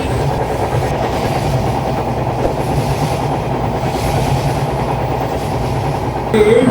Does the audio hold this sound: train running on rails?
yes